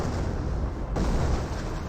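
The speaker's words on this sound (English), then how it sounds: "Artillery still running on in." Artillery barrage in Company of Heroes, heard as a dense, continuous rumble of distant booms and blasts with no clear gaps, steady and fairly loud throughout.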